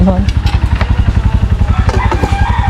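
A motorcycle engine runs close by with a steady, fast pulsing chug throughout, and people are talking over it.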